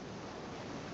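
Ocean surf in a children's animal-finding video game, a steady wash of broadband wave noise filling the whole moment, loud and even with no voices.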